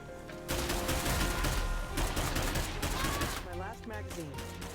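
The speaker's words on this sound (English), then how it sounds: "I'm hearing bullets fired now" Rapid gunfire from State of Decay 2 rings out in bursts over a dense, busy game soundscape with music, loud and close, fading slightly near the end.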